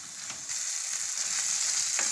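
Boiled peas fry in hot oil for methi matar paneer curry, giving a continuous, close sizzling hiss that swells slightly after the first half second, with a faint stir or two.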